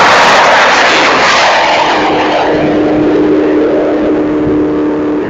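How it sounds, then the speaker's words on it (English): A 1995 Ford Mustang race car engine roars loud and close at high speed, a sustained throaty drone with a faint wavering as the engine stumbles slightly, and no one speaks over it. "you can hear a little bit of a stumble with the engine"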